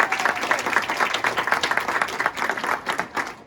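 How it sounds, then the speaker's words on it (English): Audience applause at a martial arts black belt ceremony, a dense, steady burst of many hands clapping close by for the full length, with no talk over it. "So let's give Michael a round of applause."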